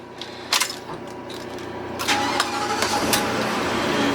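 Ford F53 chassis engine in a 2014 Fleetwood Terra SE Class A motorhome starting up: a few brief clicks and cranking bursts, then a steady idle rumble that holds, heard up close from the cockpit.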